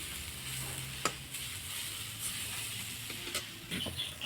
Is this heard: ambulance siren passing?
no